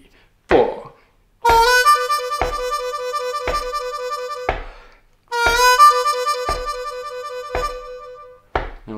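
Harmonica warble lick with an inflected 4 draw, played as two sustained, rhythmically pulsing phrases separated by a short pause, close and clear, with a brief tap before the first phrase.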